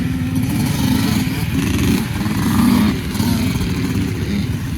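A pit bike engine revs steadily up close at a motocross race, its buzzing drone rising and falling slightly over several seconds.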